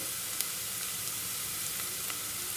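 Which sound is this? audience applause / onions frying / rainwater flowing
onions frying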